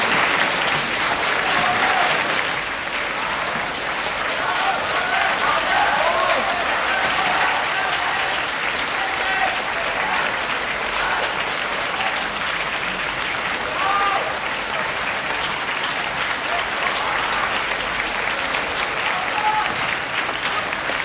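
An audience applauds at Li Ao's lecture at Peking University, sustained dense clapping from a large crowd filling the hall.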